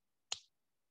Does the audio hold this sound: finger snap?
yes